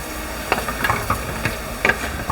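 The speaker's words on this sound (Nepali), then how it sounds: "यो प्याज भुट्ने हालसम्ममा यता खसीको मासु पनि भुट्दै जाउँ।" Goat meat and onions fry together in a pan, a constant close sizzle broken by several sharp spatula scrapes and taps.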